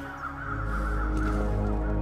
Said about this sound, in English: Those birds are crowing over something.